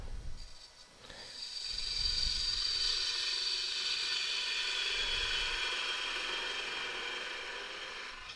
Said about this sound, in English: Get a little bit more speed into the lathe there